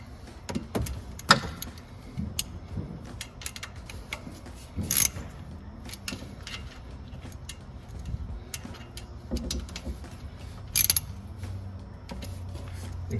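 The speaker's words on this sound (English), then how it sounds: "now retighten your bolts and be careful not to over tighten them" A ratchet retightens the oil-drain bolts on a 2021 Honda Pioneer 520 side-by-side, with light, irregular clicks and small metallic knocks up close, spread across the stretch with a couple of sharper snaps.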